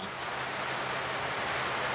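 Heavy rain drums steadily and densely on a tiny house trailer's roof overhead, a constant hiss with no break and no voices.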